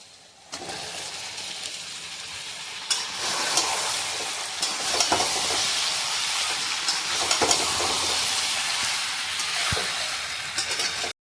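Boiled mutton frying with onion and garlic in a pan, a loud dense sizzle that swells after a quiet start, with scraping stirs and occasional clatters running until an abrupt stop.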